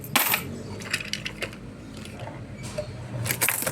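Coins drop one after another into a small cash box at a newly opened roadside eatery, producing close, bright metallic clinks in irregular bursts.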